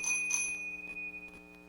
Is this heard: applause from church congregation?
no